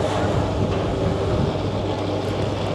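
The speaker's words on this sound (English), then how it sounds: "it's big, the engines are rumbling." Ferry engines rumbling aboard a large ferry to Crete, Greece, a loud steady low drone with wind-like noise over it, continuous throughout.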